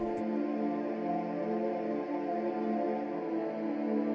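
A soft, sustained synth pad from the Expand plugin drifts through a simple chord progression, one note changing at a time, smooth and continuous with no voices.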